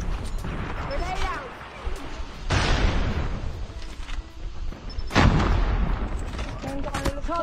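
Grenade explosions and gunfire in a Call of Duty Mobile hardpoint match, heavy booms and bursts of shots close by, with voiced game callouts over the combat.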